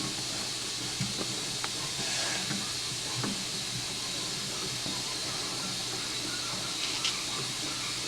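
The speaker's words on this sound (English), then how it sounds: "Okay, this is hot live steam." Hot live steam hisses steadily from a luthier's steamer used to loosen a glued guitar neck, a broad continuous rush held close throughout with a few faint knocks and clicks on top, no talking.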